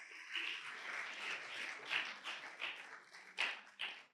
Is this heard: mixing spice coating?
no